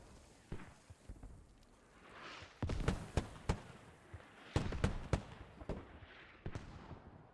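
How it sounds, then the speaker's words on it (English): Mortar fire in a war video game: sharp, heavy booms and cracks crowd together in irregular clusters, some close and loud, others duller and farther off, over a steady rumbling background. "Oh, these mortars are crazy."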